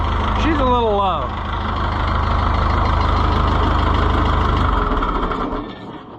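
Oliver 1365 tractor idling with a steady, low, rumbling diesel throb that runs throughout and fades near the end, with a person speaking briefly over it at the start.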